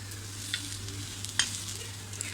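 Ginger and garlic sauté in a pan with a soft, low sizzle and a few light stirring clicks, close and fairly quiet, with no talking.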